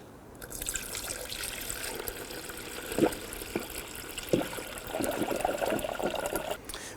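Coolant pours through a funnel into the radiator of a Nissan Murano 3.5L V6, a steady liquid trickle with gurgling splashes and a few drip-like knocks, close and moderately quiet, with no voices.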